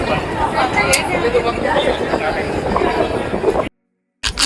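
Inside a moving Delhi metro train there is a steady rumble with background passenger chatter, and the sound cuts out abruptly near the end before briefly returning.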